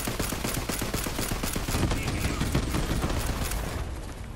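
Rapid gunfire from the Borderlands 3 video game, dense repeated shots rattling in a loud continuous burst for several seconds, close and dominant.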